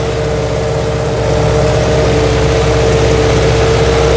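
A T-40AM tractor ploughing with a PLN 3-35 plough, its engine droning steadily and loudly at a constant pitch under load with no pauses.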